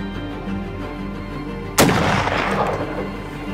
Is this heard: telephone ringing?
no